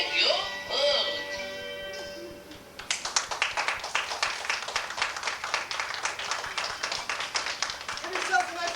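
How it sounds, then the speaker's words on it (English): Audience applause at the close of a stage performance of The Sneaky Fox, a dense burst of many hands clapping that starts abruptly after a voice and sustains loudly to the end. "Give yourselves a nice round of applause."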